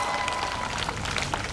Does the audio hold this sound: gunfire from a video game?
no